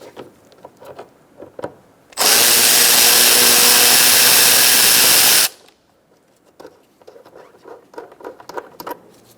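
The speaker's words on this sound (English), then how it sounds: "Using a 10mm, we're going to take out this bolt." A 10mm ratchet wrench works on a bolt in the 5.7 L engine bay of a 2005–2010 Chrysler 300, one sustained loud burst of rapid clicking between quieter handling noises.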